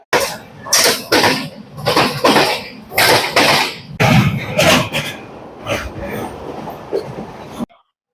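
The Kanyakumari Parashuram Express passenger train running on rails in Kerala, a loud, close rumbling roar with surging rattles and clatter that fades slightly before cutting off.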